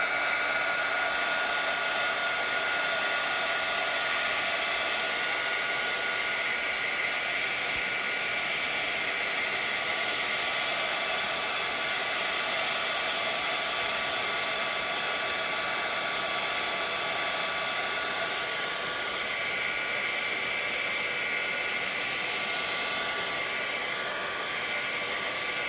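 A hair dryer blows continuously and loudly up close for the whole stretch, drying shimmer spray on a mixed media art piece, its steady hiss barely changing and no voices over it.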